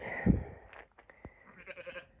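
A faint sheep bleat rises briefly on an off-grid homestead, followed by soft quieter bleating sounds in an otherwise calm outdoor setting.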